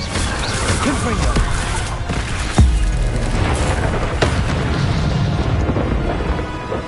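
Blasts from the Confringo fire spell in Hogwarts Legacy boom amid a chaotic game fight, with a sharp hit near the middle and constant rumbling effects throughout.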